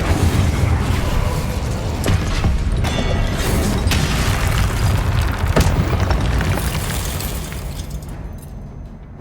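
A fiery Incendio spell blast from the Hogwarts Legacy video game, heard as a loud, sustained roaring burst with crackling pops throughout that fades slightly near the end, with no talking.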